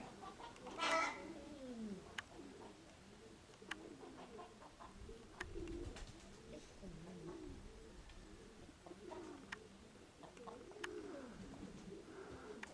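A pigeon coos repeatedly, low rolling calls in a steady series, fairly faint, with occasional small clicks and knocks nearby.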